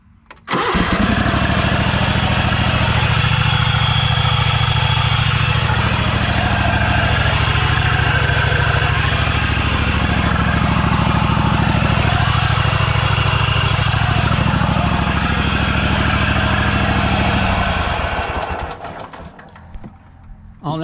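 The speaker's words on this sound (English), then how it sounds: "It sounds like a bearing's going bad." A Scag V-Ride mower engine with a failing bearing roaring loudly and steadily close by for a long stretch, then cutting out near the end.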